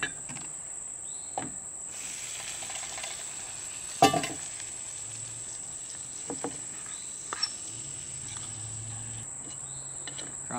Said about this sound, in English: Let's get the pasta in here and mix it up.